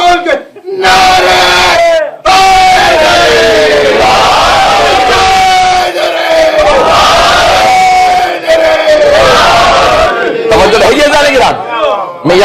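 A large crowd loudly chanting religious slogans with raised hands, voices rising together in repeated, forceful calls that fill the space, with brief gaps between the chants.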